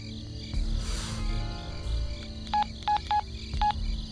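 Four short, distinct telephone keypad tones beep one after another, loud and close, over a low background hum with insect-like chirring.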